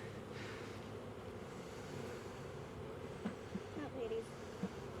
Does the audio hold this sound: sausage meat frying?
no